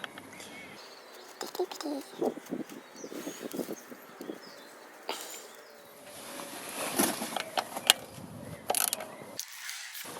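Metal drain plug being threaded by hand into the bottom of a BMW R1150 GS final drive, fitted with a new crush washer: a series of small, close ratcheting and scraping clicks with light handling knocks, intermittent and near.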